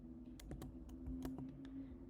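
Quiet typing on a computer keyboard on macOS, a quick run of about a dozen light, irregular key clicks over a faint steady hum.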